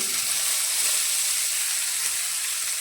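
Finely chopped onions going into a pan of roasted cumin seeds for gram-flour bhurji, giving a steady, even sizzle and hiss of frying with no voices.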